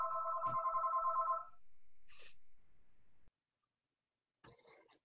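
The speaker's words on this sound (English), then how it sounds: "my house phone is ringing at the same time we're doing this" A home landline telephone rings indoors, one long electronic trill followed by quieter clicks and a faint later burst, with no talk over it.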